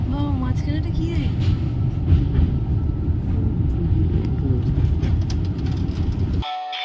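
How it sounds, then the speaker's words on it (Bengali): A train at Sambalpur station gives a deep, steady rumble with a tonal horn-like note early on, loud and near for several seconds before cutting off abruptly, with voices talking over it. "আমরা আমাদের পোটলা পুটলি নিয়ে ট্রেন থেকে সম্বলপুর স্টেশনে নেমে পড়েছি"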